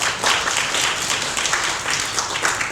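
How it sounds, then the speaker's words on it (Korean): Steady applause from the audience at a policy forum on power wheelchair support for people with severe disabilities, a dense unbroken patter of many hands clapping throughout. "박장식 사무장님 다시 한번 박수 부탁드립니다."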